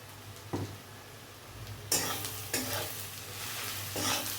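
Sliced onions frying in a pan with a little turmeric and salt, a soft hiss that swells into a louder, continuous sizzle with several scraping stirs of a spatula, close up.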